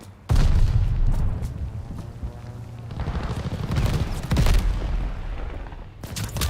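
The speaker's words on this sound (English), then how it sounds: "Allied airstrike coming in hot" Airstrike explosions and gunfire in the video game Call of Duty Vanguard roll on as loud, dense booms and rattling bursts that swell and fade over several seconds, with no voices.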